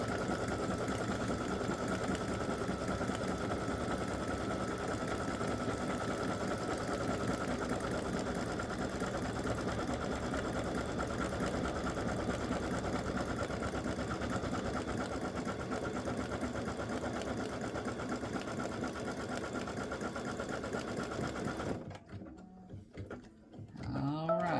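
An embroidery machine running steadily while top stitching a patch, a fast even mechanical whir with rhythmic needle chatter, close and constant until it stops near the end, leaving quiet handling noise.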